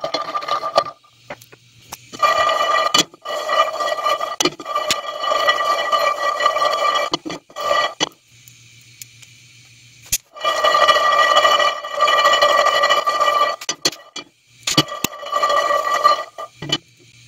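Peanuts roasting in a pan over high heat give off bursts of crackling and sharp popping ticks, loud and close, broken by short quiet gaps.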